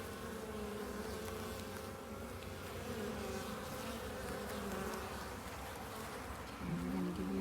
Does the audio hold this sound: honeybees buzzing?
yes